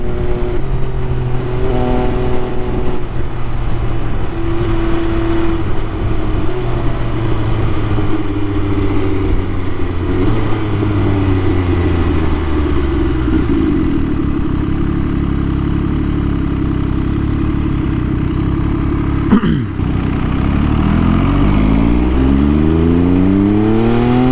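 An MV Agusta motorcycle out on the road, its engine droning loud and close throughout, pitch climbing through repeated rising sweeps as it accelerates through the gears, with a brief dip near the end before revving up again.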